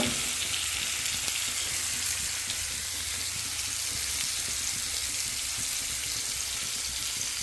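Kilimeen (pink perch, sea fish) fries in hot oil with curry leaves, giving a steady, dense, close sizzle that holds evenly throughout, with no voices.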